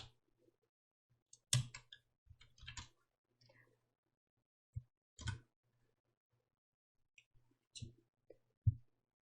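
A few sparse, isolated key presses on a computer keyboard, including the Windows logo and Esc keys, click softly and close in an otherwise near-silent room, with long pauses between the taps.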